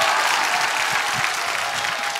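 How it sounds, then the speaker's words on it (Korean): A congregation applauds during a church sermon gathering, producing a loud, dense wash of clapping that stays level for the whole brief stretch. "자, 다시 한 박수 하겠습니다."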